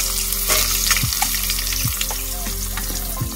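Salted potato pieces fry in a hot pan for a home-cooked Bengali chicken dish, giving a loud, continuous close-up sizzle broken by regular stirring knocks and scrapes.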